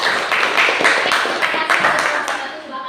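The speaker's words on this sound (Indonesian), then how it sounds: "Tepuk tangan dulu untuk kelompok 1 ya" A classroom of students clapping for a group presentation, a short burst of brisk, uneven hand claps up close with some chatter mixed in, fading out at the end.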